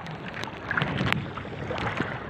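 Strong wind buffets the microphone in a steady broadband roar outdoors under overcast, drizzly skies, with faint water and boat-like movement sounds beneath it; no one speaks.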